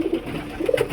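A breeding-quality pigeon coos softly and close by, a brief low murmuring call that swells twice within a second, with no voices.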